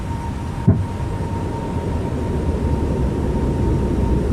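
An Airbus A320 extending its landing gear in a flight simulator: a brief thump and clunk rises over a constant loud cockpit drone and faint steady tone, with no voices.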